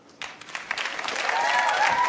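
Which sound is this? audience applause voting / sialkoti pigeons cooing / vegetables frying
audience applause voting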